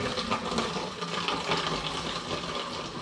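Ginger-flavoured hard cider pours steadily into a clean vessel, a continuous close splashing and trickling of liquid filling the container with no talking.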